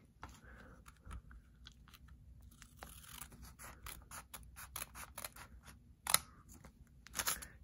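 Scissors cutting paper for a flyable paper F-14 plane, heard as a quiet, close series of crisp snips and rustles that come in irregular bursts, with a few sharper snips near the end.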